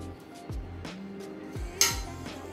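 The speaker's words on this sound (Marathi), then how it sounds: "हा डाळीचा डब्बा ठेवून घेऊ।" A metal dal container set down inside a pressure cooker makes a few close clinks and knocks against the cooker's metal, with a sharp bright clank near the end, in a quiet kitchen without talk.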